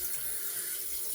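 Water from a tap runs steadily into a sink, a continuous hissing stream as a shaving razor is rinsed, close and fairly loud with no talking.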